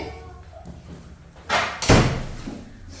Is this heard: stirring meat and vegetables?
no